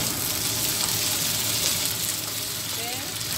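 Spring onions being stir-fried with mushrooms in a hot pan, a dense steady sizzle with soft stirring, close and continuous throughout.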